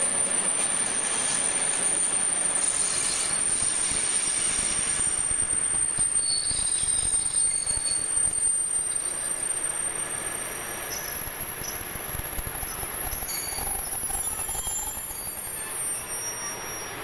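Locomotive 6504 passes on the Maastricht–Liège rail line heading toward Visé, a loud, sustained rolling rumble with persistent high-pitched wheel squeal throughout and no voices.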